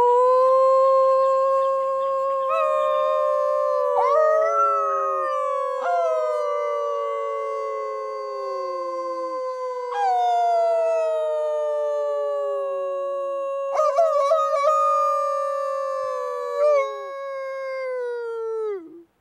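Several human voices imitating a howling wolf pack in a winter park, overlapping in a round of long, rising and falling howls, fairly close and clear, with one voice adding sharp yips near the end.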